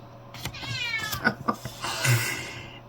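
A house cat meows several times in quick succession indoors, close and clear, with rising and falling wavering cries ending in a longer drawn-out meow.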